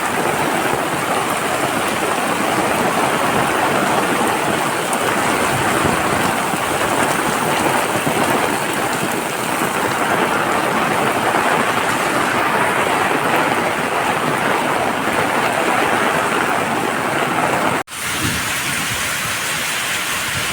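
A heavy downpour falls steadily, a dense, loud hiss of rain that holds unbroken for about twenty seconds, with only a brief dip near the end and no voices.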